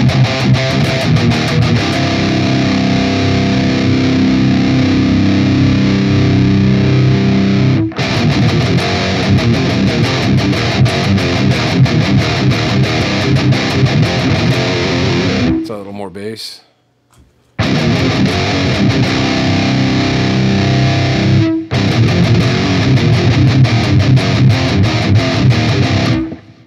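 Distorted electric guitar through a Line 6 POD Express using the Uber V30 cab model, playing loud, dense riffs with a brief pause near the middle before resuming.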